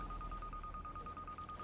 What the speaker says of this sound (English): Shush the alarm, just 5 more minutes.